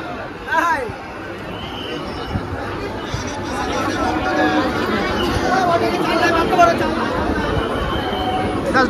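Dense crowd of devotees packing Tarakeswar railway station, a steady roar of overlapping voices and shuffling that swells slightly over time, close and loud with no single speaker standing out.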